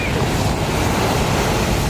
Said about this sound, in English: And the waves are really big.